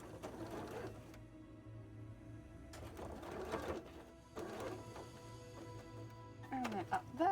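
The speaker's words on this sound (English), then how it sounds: "Some very delicate stitching taking place right now while we go around the outside of all of these with a teeny tiny little line." A sewing machine stitches a delicate outline around a pattern motif in quick short bursts with pauses between runs, fairly quiet, with faint bird-like cooing and a voice late on.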